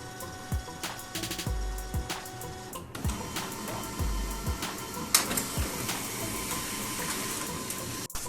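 An office printer with a built-in scanner runs at close range, giving a steady mechanical whir and hum broken by repeated low thumps and short motor surges, with a sharp click near the end.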